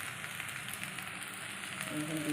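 Vegetables for sabudana pulao fry steadily in a hot pan, a constant crackling sizzle at moderate volume with no voices.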